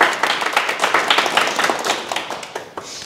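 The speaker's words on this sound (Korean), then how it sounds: "큰 박수 부탁드립니다." Audience applause at a talk, a dense sustained wash of many hands clapping that stays loud, then thins slightly near the end.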